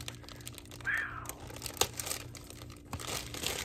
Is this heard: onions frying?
no